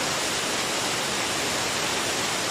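Waterfall fed by a spring, with water pouring and splashing in a steady, loud, dense rush that fills the whole moment without any break.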